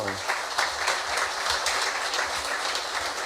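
Audience applause fills a company award ceremony, a steady dense wash of many hands clapping at moderate distance, continuing evenly throughout with faint voices mixed beneath.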